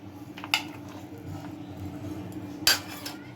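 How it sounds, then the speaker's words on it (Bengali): Spinach fritter batter gets mixed in a bowl, with two brief clinks of a utensil against the dish over a low, steady background hum. "এখন আমি একে একে সব মিক্সড করছি।"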